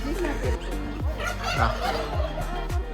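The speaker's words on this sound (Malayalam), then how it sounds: "സാധാരണ കോഴികളുടെ ഫാം." Chickens on a countryside farm in Estonia give repeated fowl calls in short bursts, fairly close and steady, over a low rumble of background noise.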